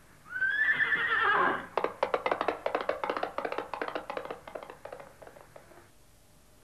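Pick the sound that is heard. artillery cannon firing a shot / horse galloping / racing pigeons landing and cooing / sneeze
horse galloping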